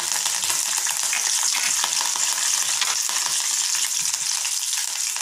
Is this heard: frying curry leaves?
yes